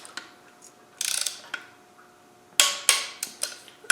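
Socket wrench ratcheting while torquing clutch bolts on a Land Rover 200Tdi engine, a quick burst of clicks followed by several sharper ratchet strokes, close and clear with no talking.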